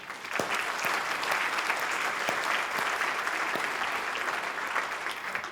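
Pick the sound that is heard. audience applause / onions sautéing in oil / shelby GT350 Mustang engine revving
audience applause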